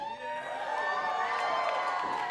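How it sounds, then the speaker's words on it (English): A live event audience cheers and shouts for the contestant Kidd Bandit, a steady wash of crowd noise with excited voices rising and falling throughout, filling the whole short stretch without a break. "listen to this audience as they cheer, Bandit, Bandit, Bandit"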